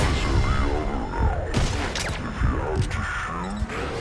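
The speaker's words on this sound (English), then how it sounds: "Неизвестные выстрелы" Gunfire in the stealth action game Metal Gear Solid V: The Phantom Pain, a continuous fusillade of shots and booming impacts over game music and radio chatter, with talk in the background.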